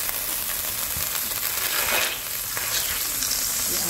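Butter melts and sizzles in a frying pan at a steady, soft crackle that fills the whole stretch without a break.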